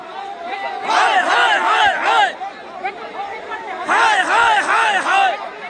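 Protesting teachers chant slogans in front of Bikash Bhaban. The crowd's voices rise in two rhythmic, loud bursts of repeated cries, separated by quieter murmuring.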